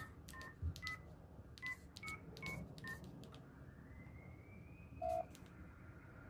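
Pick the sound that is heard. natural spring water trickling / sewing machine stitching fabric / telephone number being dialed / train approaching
telephone number being dialed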